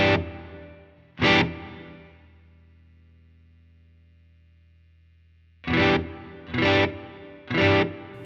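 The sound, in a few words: electric guitar through Ganymede reverb on Line 6 HX Stomp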